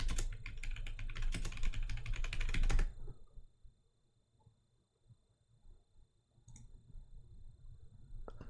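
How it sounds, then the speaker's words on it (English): Fast, close typing on a computer keyboard rattles for about three seconds, then stops, leaving near silence with faint scattered clicks and a low hum. "I'm going to type in"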